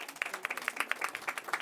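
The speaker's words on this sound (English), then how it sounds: "Give her a big round of applause." Short burst of scattered, crisp hand claps from an audience at a city commission meeting, a handful of people clapping unevenly for under two seconds.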